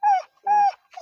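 A dog gives two drawn-out, whining yelps in quick succession, close and fairly loud, with the start of a third cry cut off at the end.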